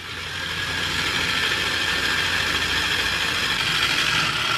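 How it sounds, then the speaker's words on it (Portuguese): A stand mixer beats a chocolate dessert mix, giving a loud, steady motor whir with a grinding mechanical edge. It starts up and then holds unbroken and close throughout. "Agora é só colocar a batedeira no lugarzinho dela e vamos bater."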